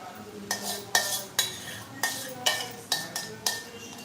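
A spoon stirs daliya cooking in a metal pot, scraping and clinking against the sides in a steady rhythm of about eight strokes, close and clear.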